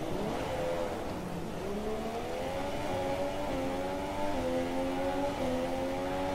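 A Formula 1 car engine in the F1 2017 game at Monaco in heavy rain, a high whining note climbing through several gear shifts under a steady wash of rain and road noise.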